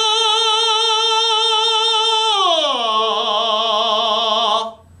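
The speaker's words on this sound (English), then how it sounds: "Are your high notes in a classical production of sound," A man sings a sustained high note in classical operatic style, loud and steady with rich vibrato, sliding down in pitch midway before holding again and cutting off near the end, with no talking.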